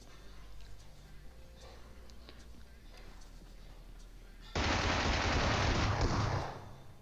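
SMG gunfire in a battle royale video game, a sustained loud burst of rapid automatic fire lasting about two seconds, rising sharply over quieter background game ambience.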